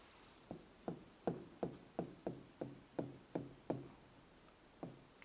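Chalk writing chemistry formulas on a classroom board gives about a dozen faint, sharp taps in an uneven rhythm, with no talking.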